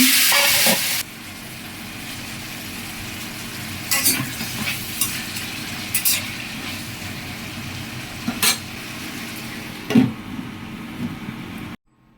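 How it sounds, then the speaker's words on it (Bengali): Figs dropped into hot oil in a wok, a steady close sizzle broken by sharp scraping and stirring clatters at intervals, ending abruptly in silence. "কড়াইয়ে তেল গরম করতে দিয়েছি, আর গরম তেলে ছেড়ে দিলাম"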